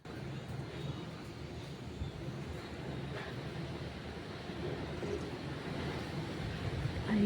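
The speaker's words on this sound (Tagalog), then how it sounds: "Ang lakas ng hangin." Steady, loud wind roars and buffets the microphone throughout, with a constant low rumble and no voices.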